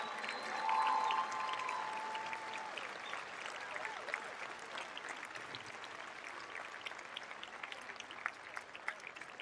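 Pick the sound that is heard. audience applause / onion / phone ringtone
audience applause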